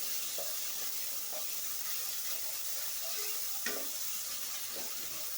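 Tomatoes with cumin and coriander powder sautéing in a pan for a simple paneer gravy give a soft, steady sizzle, quiet and close, with occasional light scraping stirs and no talking.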